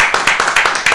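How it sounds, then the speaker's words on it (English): A small group in a radio podcast studio claps, with quick, close, individual hand claps in a loose rhythm over a short burst. "Let's give us a round of applause for that"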